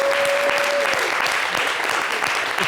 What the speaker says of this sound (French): Acclamez le monsieur là